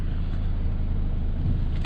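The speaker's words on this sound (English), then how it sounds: "So here we are on the freeway, starting the driving vlog." Toyota Hilux pickup truck cruising on the freeway, heard as a steady low road and engine rumble from inside the cab, even and continuous with no voices.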